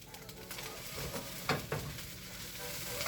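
Zucchini and pepper sizzle in a pan for quick fried rice, with a steady close crackle and two brief scraping stirs near the middle, no talking.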